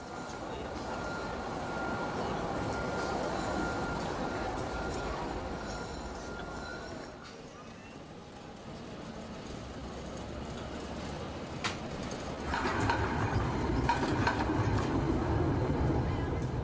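Trams run through the medieval streets of Ghent in Flanders, a steady rolling rumble with faint rail squeals that eases off briefly and then grows louder as another tram approaches near the end.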